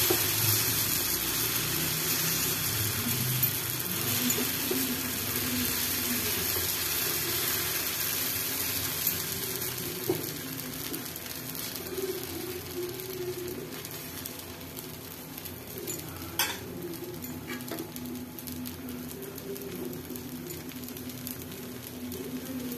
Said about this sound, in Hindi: एबे तावा को गरम करिबा आउ बैटर को चकुली रे सेक दबा।